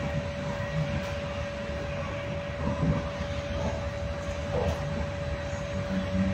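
Inside a moving passenger train, a steady low rumble and rattle of the carriage runs continuously, with a faint constant whine and occasional soft knocks and no voices.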